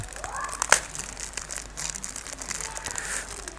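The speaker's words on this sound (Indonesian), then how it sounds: "Oke, mari kita buka terlebih dahulu makanan pembuka kita." A crinkly snack package is opened up close, with bursts of crumpling and tearing plastic and one sharp crackle near the start.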